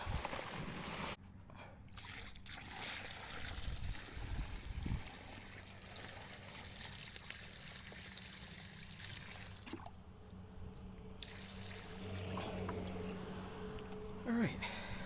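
Water is poured into a fence post hole in a yard, trickling and sloshing in uneven bursts across the stretch, fairly close and soft, with some quiet gaps.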